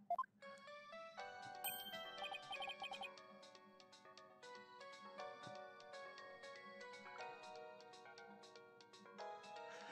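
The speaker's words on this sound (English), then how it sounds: "I like that ringtone, though." A phone ringtone melody in the Ace Attorney: Spirit of Justice video game, a bright tinkling tune of quick repeated notes playing steadily at low volume.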